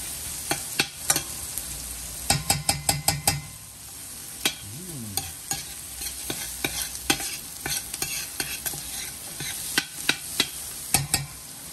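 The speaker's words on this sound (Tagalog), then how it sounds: "Kailangan natin maluto ang ating ginger." Ginger sautéing in a pan for chicken tinola, a steady sizzle broken by repeated quick bursts of stirring and scraping clatter, close and fairly loud with no talk.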